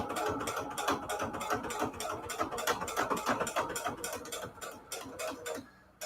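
A plastic toy sewing machine runs in a steady, rapid mechanical clatter of ticking gears and needle strokes. It stays close and fairly loud, with no talk, then breaks off just before the end.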